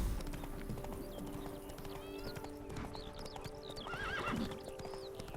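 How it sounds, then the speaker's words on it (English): Wild horses in The Witcher 3 video game neigh and whinny repeatedly over steady clip-clopping hooves, with a faint game ambience underneath. "Oh, wild horses, alright."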